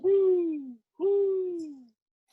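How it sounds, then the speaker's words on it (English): Two long, deep hoots from a large owl perched on a branch, each about three-quarters of a second long, close and loud against a silent background. "we also have owls, big owls that sit on the branches"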